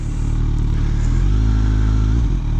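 Kawasaki 2018 Ninja 1000 sport motorcycle fitted with a Black Widow aftermarket exhaust, a loud, steady, deep engine drone close by while riding, with a slight shift in pitch near the end.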